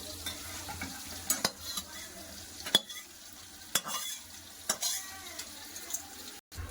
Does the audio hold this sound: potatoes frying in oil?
yes